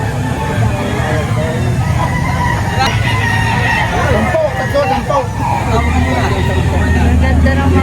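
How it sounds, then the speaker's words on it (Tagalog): Chickens at a live poultry market in Batangas, crowing and clucking amid a steady crowd babble and passing traffic, with people talking nearby. "Ayan o. Ang mga manok."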